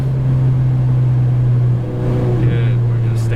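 A Ferrari 488 GTB engine on throttle at a track drones as a loud, steady, low-pitched note heard from inside the car, with a voice briefly over it near the end.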